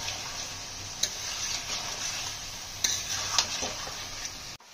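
Small Ganga river fish go into a pan of bitter gourd curry and are stirred, giving faint, soft sizzling with a few distinct scraping clinks of the spatula against the pan.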